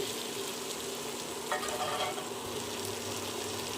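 Pre-fried pointed gourd (potol) sizzles in an oiled pan for a potol paneer dish, a steady, close frying hiss with a brief swell midway as the pieces are stirred, and no talking.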